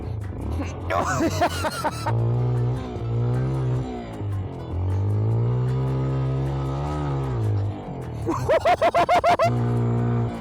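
A Papio CL six-speed motorcycle engine revving up and climbing through its range, its pitch rising and dropping between gears on a damp road, with a rider talking over it.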